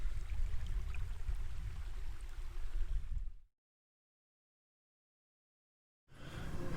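Warm water flows steadily at the Gunlom Falls infinity pool, a constant close rushing wash that cuts out for a few seconds of silence and then resumes.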